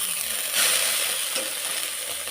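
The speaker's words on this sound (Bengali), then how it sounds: "আর এক পিঠটা আর একটু ভাজা ভাজা করে নেব" Large mourala fish fry lightly in hot oil in a wok, a steady, dense sizzling hiss that swells briefly as the fish is turned, with no voices.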